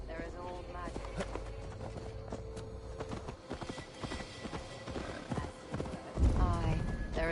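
Horse hooves clip-clop at a steady walking pace in Assassin's Creed Valhalla, set in untamed Gloucestershire, under speech, game music and ambience, with a louder thump near the end.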